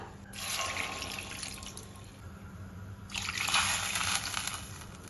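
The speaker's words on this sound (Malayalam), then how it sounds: "ഇനി ഇതിലേക്ക് നമുക്ക് രണ്ട് കപ്പ് വെള്ളം ചേർക്കാം" Water is poured onto jaggery in a cooking pot, a soft splashing pour that runs for a couple of seconds, pauses, then surges again more strongly, fairly quiet with no talk.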